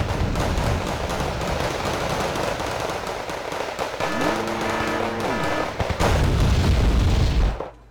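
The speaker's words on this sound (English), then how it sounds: "let's make sure our artillery is continuously firing" Continuous rumbling booms and rapid rattling fire from Wargame: Red Dragon artillery in a battle around the South Korean capital, loud and dense throughout, with a rising whine in the middle before the barrage cuts off abruptly at the end.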